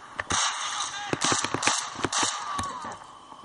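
Gunfire in the PSP shooter Medal of Honor Heroes 2: a rapid scatter of sharp, fairly faint shots and cracks, some in quick bursts, over a hissy background of low-quality game audio.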